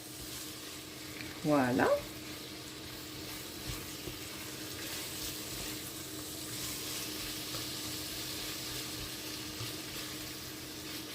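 Ground beef with onions stirred and browning in a pan for homemade lasagne: a continuous soft sizzle and scraping, with a short spoken word near the start.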